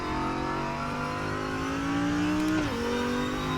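A video game race car engine at the Zolder circuit whines at high revs, its pitch climbing steadily, then dipping sharply for a gear change before continuing, loud and close.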